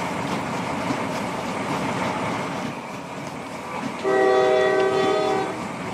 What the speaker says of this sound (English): Okay, so it looks like a train has finally come.